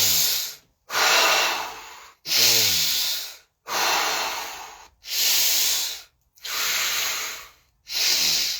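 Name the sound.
Wim Hof breath work, rhythmic deep breathing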